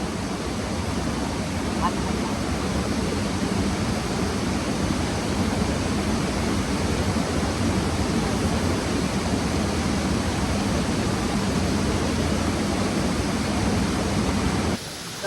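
Domzira waterfall in Palghar, Jawhar, roaring as a steady broadband rush of falling water, loud and constant throughout, dropping slightly at the very end.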